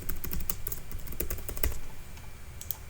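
Quick clattering keystrokes on a computer keyboard come in irregular bursts, close and fairly crisp, with no voice over them.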